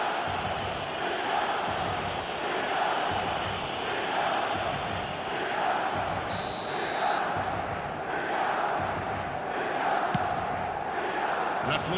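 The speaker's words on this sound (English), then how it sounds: "Certainly gave this crowd something to really cheer about." Stadium crowd in an eFootball soccer video game, a steady, dense roar of cheering and chanting rolling on throughout with a few brighter swells.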